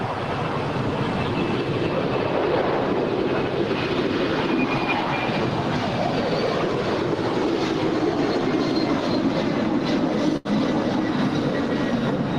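A Boeing 747 jet takes off into fog at LAX in Los Angeles, giving a loud, steady roar with a thin high whine that holds for the whole stretch and drops out only for a brief instant near the end.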